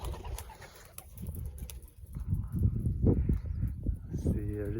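Racing pigeons coo at their loft, soft throaty calls repeating close by while a person talks over them through most of the stretch.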